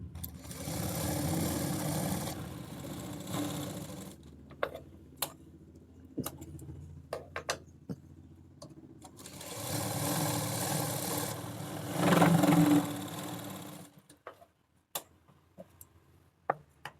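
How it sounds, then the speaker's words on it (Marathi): Sewing machine stitching a double seam along the shoulder of a blouse, running in two sustained bursts with a quieter pause and scattered sharp ticks between them, close and steady. "शोल्डरवर आपल्याला डबल टिप मारायची आहे. सिंगल टिप नाही मारायची, शोल्डरवर डबल टिप मारायची."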